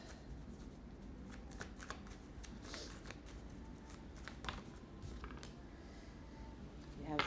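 Tarot cards shuffled continuously for several seconds, a dense, steady riffling and rustling close to the microphone with a few sharper flicks, no voices.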